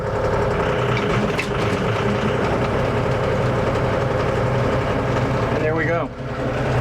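A John Deere tractor engine runs steadily and loud while driving the PTO of an MX7 field mower, a constant low drone with a brief rising rev near the end as a voice speaks.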